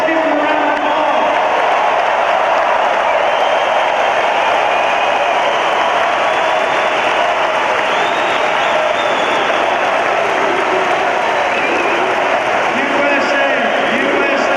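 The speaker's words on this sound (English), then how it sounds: "Let's give them a round of applause." At a 2016 Trump rally in Cincinnati, Ohio, a large crowd applauds and cheers in a loud, sustained roar of clapping and shouts that fills the whole stretch without a break.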